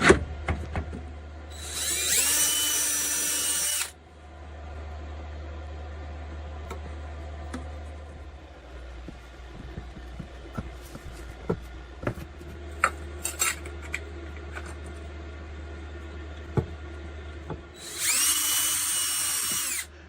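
A power drill drives screws to fasten stair edging onto a cupboard inside a Ram ProMaster camper van, with two loud high-pitched bursts of drilling at the start and end and quieter handling clatter in between.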